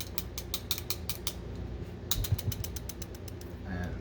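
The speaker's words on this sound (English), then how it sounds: "if there's 13 rounds in it, it's still a rattle" A pistol with a full magazine of 13 to 14 rounds gives off a series of light metallic clicks and rattles as it is handled, close by and fairly quiet, with a short cluster of sharper clatter near the middle.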